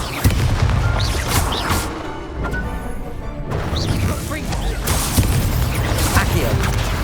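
Casting the Stupefy spell in Hogwarts Legacy during combat: loud bursts, booms and whooshes of magic layered over constant battle noise, with a character voice shouting.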